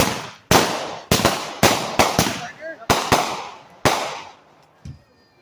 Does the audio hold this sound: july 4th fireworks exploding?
yes